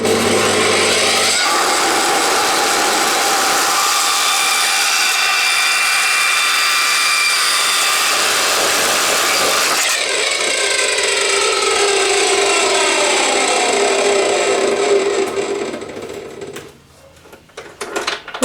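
A metal cutoff saw cuts through metal, a loud sustained grinding screech close by that shifts tone partway through, then spins down into quieter scraping at the end.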